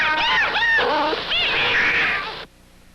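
A cat gives a rapid series of loud, wavering meows and yowls at close range, running together for about two and a half seconds before stopping abruptly.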